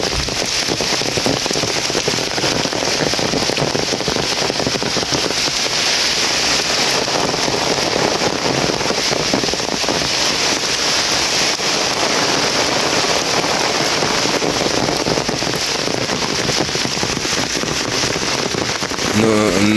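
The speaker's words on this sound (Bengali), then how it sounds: "বৃষ্টি, সেই বৃষ্টি হওয়া যাচ্ছে।" Rain falls steadily over a riverside spot where egrets gather, a dense, continuous patter and crackle of drops on surfaces that stays loud throughout.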